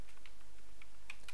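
Keys on a computer keyboard tap in a few light, scattered clicks with pauses between them, close and faint over a quiet room hum, with no voice.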